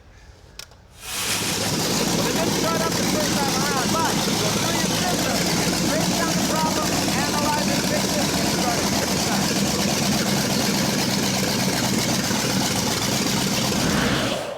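A classic hot rod Ford F100 truck engine idles just after being started for the first time, a loud, even, close rumble that holds steady from its start, with voices partly over it.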